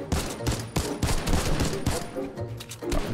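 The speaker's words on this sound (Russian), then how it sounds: "Сейчас я стреляю в тот, который летит." Rapid, loud gunfire bursts from weapons in a Fortnite match, dense overlapping shots with no pause throughout.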